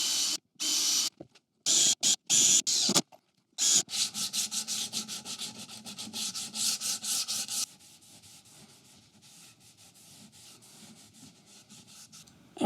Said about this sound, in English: with a bit of sandpaper, I'm just going to break the edges